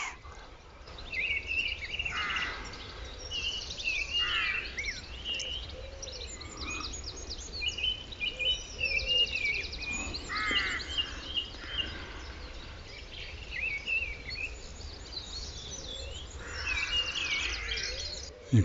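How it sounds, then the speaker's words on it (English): A mistle thrush sings a rambling, melancholy song in the background, faint and distant, with several short phrases repeating among other light birdsong chirps over a soft outdoor hiss. "in the background there you can just about hear a missel thrush"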